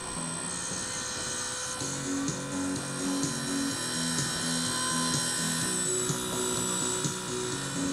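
A radio-controlled flybarless collective-pitch helicopter, converted to a single rotor blade with no tail rotor, flies nearby. Its rotor and motor give a steady, pulsing whine that holds at moderate loudness throughout.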